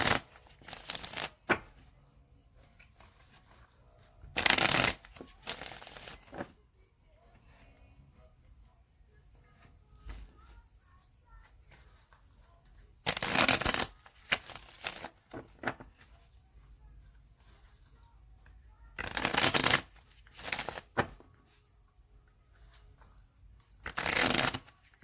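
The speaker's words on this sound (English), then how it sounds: "I'm going to shuffle it 3 more times" Tarot cards shuffled in repeated bursts, three loud riffling spells a few seconds apart, close up, with quiet room tone between and no talking.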